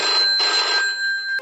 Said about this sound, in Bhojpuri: अभी फोन लगावतन